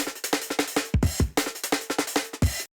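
A looped drum break of sharp snare and kick hits in a quick, steady rhythm sits close and dry with no voices, playing through a spectral compressor plugin for a listening test.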